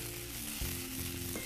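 Palak makai muthia being stirred and fried in a pan, a quiet even sizzle with a low hum underneath and a soft bump or two from the spatula, close and faint, no speech.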